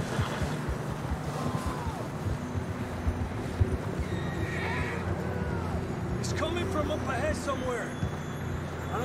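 Horses in the video game Red Dead Redemption 2, with whinnies and neighs rising over a busy mix of hoof and ambient noise, people talking at times.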